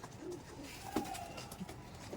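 A high-flying teddy pigeon coos softly, a faint, brief low call against a quiet background hiss, with no talking.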